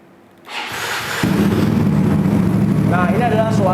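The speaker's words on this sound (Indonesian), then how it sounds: "ini adalah suara idle si motor rukus ini" A Ruckus concept motor scooter fitted with a spiral exhaust starts up and settles into a steady, deep, bassy idle, close and continuous after a brief quiet start.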